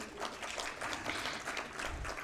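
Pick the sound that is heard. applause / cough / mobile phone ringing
applause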